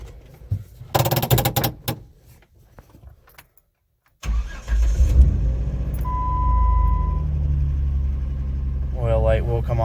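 A 2008 Jeep Wrangler JKU engine cranks briefly after a quiet pause, catches and settles into a loud, steady idle, with a short beep partway through and a person talking toward the end.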